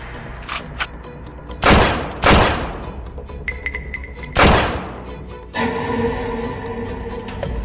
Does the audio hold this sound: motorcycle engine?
no